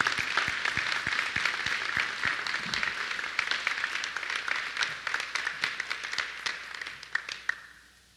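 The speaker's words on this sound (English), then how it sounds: "Let's give them another round of applause." Audience at a Bradenton scholarship honors event applauding for recipients, a dense mix of individual claps close by that gradually tapers off toward the end.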